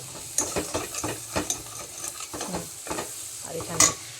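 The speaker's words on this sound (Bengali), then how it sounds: "পেঁয়াজ, রসুন, কাঁচা লঙ্কা, কালো জিরা ফোড়ন দিয়ে ভাজছি" Onion, garlic, green chili and nigella seeds frying in fish oil, with a crackling sizzle beneath repeated spatula stirs and scrapes against the pan, one sharper clatter near the end.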